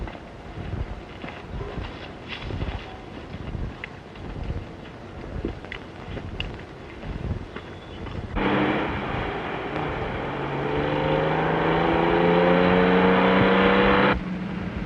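A truck pulls away on an outdoor road, starting as loose rumbling and clatter, then a loud rising engine drone with gear whine that swells, holds for several seconds and cuts off abruptly.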